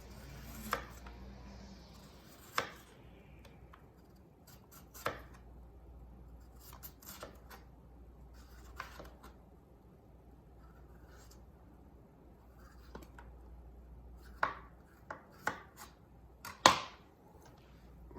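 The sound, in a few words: knife peeling skin off plantains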